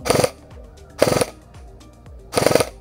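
An airsoft gun fires three short, sharp bursts spaced about a second apart during a test after a hop-up adjustment. The rapid, rattling shots are close and clear, with quiet gaps between bursts and no talking.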